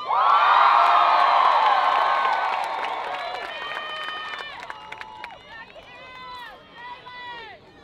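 High school graduation audience erupts in a second burst of screaming and cheering, loud at first and gradually thinning into scattered whoops and high-pitched shouts.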